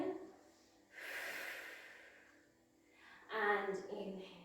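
A long forceful breath pushed out during a Pilates exercise, followed by a breathy voiced sound, close and fairly loud with no other noise.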